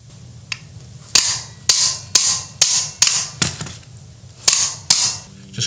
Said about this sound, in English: Just keep filling up the hole and hitting it with the driver.